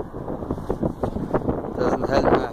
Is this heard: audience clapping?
no